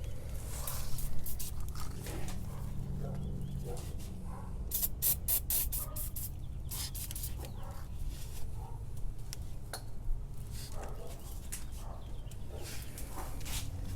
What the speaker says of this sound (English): I would like to spray a little bit of PB Blaster.